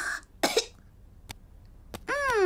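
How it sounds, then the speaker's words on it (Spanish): A single short cough from a cartoon piglet character in Peppa Pig, then a few soft clicks, followed by a rising, wavering voiced sound at the end. "Después tose."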